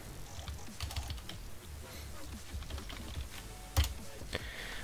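Typing on a computer keyboard during a German Minecraft session gives a quick, irregular patter of close key clicks over a low background hum, with one louder knock partway through.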